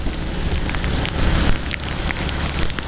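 Steady rain pattering close by on a road in Saddar, with a constant low rumble beneath the dense crackle of drops and no voices.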